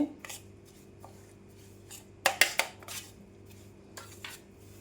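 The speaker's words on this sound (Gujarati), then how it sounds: "આપણે બધું હાથે આવી રીતે મિક્સ કરી લેવાનું છે" Pickle masala mixed in hot oil in a kitchen: sparse metallic clinks of a utensil against a pot, with a cluster of sharper clanks in the middle and a couple more near the end, fairly close in a quiet room.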